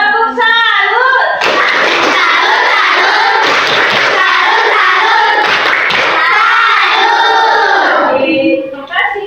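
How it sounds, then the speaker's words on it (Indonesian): A group of people clapping together in a classroom, loud dense applause close by with some cheering voices mixed in, a rhythmic patterned clap surging for several seconds before tapering off. "Nah, tepuk salut."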